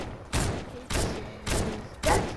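Sniper rifle in a video game firing four heavy, booming shots at roughly half-second intervals, each a loud broadband blast with a short decaying tail.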